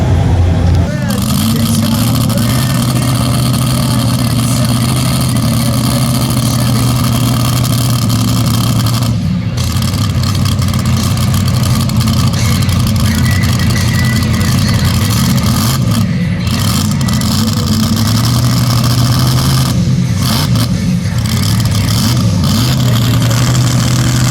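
Big Red Express, an 1,800-horsepower pulling truck, roars with a loud, sustained engine note at a truck and tractor pull, while an announcer talks over it.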